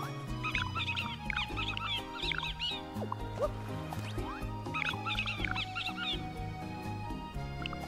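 Cartoonish barking and yapping from a dog in the Super Mario Odyssey video game, two short bursts of quick, high-pitched yips over steady, bouncy background music.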